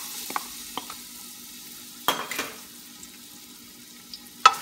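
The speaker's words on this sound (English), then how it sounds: "Let's cook the ginger for a minute or so." Ginger frying in vegetable oil, a quiet steady sizzle with scattered utensil clinks and a few louder scrapes against the pan, no talking.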